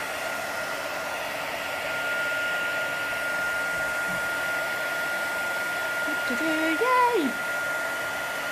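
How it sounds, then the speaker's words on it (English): A heat gun blows hot air in a steady, close, even rush like a hair dryer, with a person briefly cheering near the end. "So I've got the heat gun behind me. On. We're just going to heat it."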